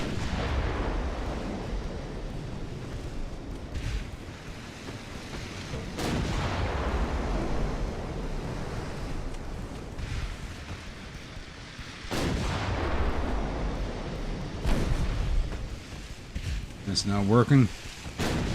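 Warship guns firing high-explosive shells in the Ultimate Admiral: Dreadnoughts naval battle game set in 1890, with heavy booming salvos and a constant rumble, some louder blasts standing out, while someone speaks briefly.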